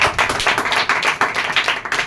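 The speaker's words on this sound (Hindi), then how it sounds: "आंसर देने से पहले ही ताली बजाइए" An audience claps steadily at a student meeting, a dense wash of many hands applauding for about two seconds with no talking over it.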